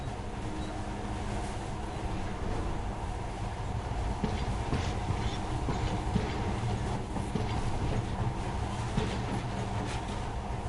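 A monorail train in a PS4 video game runs steadily, giving a continuous low rumble with faint rhythmic rail clatter throughout, with no voices.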